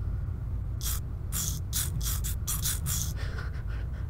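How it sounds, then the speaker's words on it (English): Toothbrush scrubbing in a video game about brushing teeth: a run of short, bristly brushing strokes at an uneven rhythm, fairly close and moderately loud over a steady low hum. "A game about brushing your teeth."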